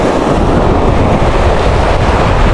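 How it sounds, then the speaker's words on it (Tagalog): Strong sea waves breaking at the shore, a continuous loud roar of surf with heavy rumble, buffeted by wind noise against the microphone, no voices. "hindi klaro yung ano, yung dagat, at saka ang lakas pa ng alon"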